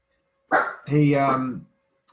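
A small pet dog gives two close, loud barks, a short yip followed by a longer, drawn-out bark, with no talking over them.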